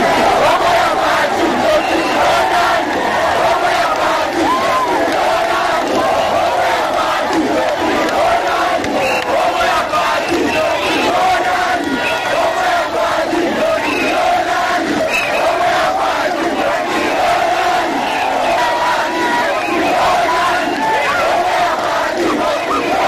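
A huge crowd at a campaign rally for Félix Tshisekedi in Grand Bandundu, Democratic Republic of the Congo, roars and chants loudly and continuously, a dense wall of massed voices with rhythmic swells throughout.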